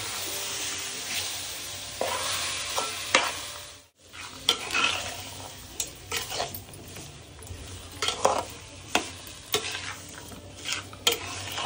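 Potatoes and peas sizzle in a hot pan while a spoon stirs and scrapes them, with steady frying hiss and repeated clinks and scrapes against the pot, a brief pause midway, no talking.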